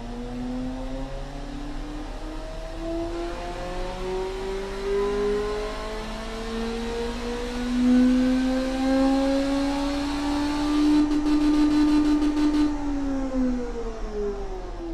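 Dual-exhaust car engine from the driving game Automation, fitted with long tubular headers, 2¼-inch pipes and straight-through mufflers, revs steadily upward with a rising, droning tone, sustained and fairly loud throughout with no talking.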